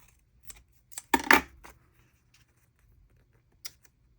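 Scissors trim paper for a journal in a few short, crisp snips close by, separated by quiet pauses, with one louder cluster of cuts in the middle.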